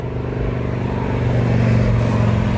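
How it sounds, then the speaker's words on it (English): Steady, loud roar of fast-moving cars zipping past on a road beside a cemetery, a continuous close traffic rumble filling the whole stretch with no breaks or voices. "ends at the road, which fast-moving cars are definitely zipping by"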